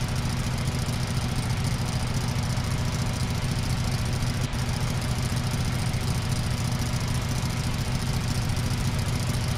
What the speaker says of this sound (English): I think it does really sound like a motorcycle.